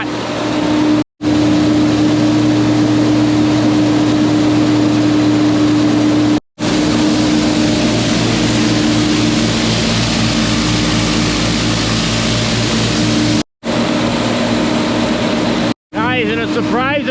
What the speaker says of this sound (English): that blower hopefully is doing its job